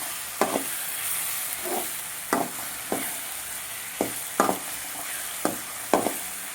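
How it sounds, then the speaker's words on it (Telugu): Mint fried rice being stirred and fried in a pan, a spatula scraping and tossing the rice in about eight separate strokes over a steady low sizzle, close by and alone with no talking. "పచ్చి స్మెల్ పోయే వరకు వేయించుకోవాలి."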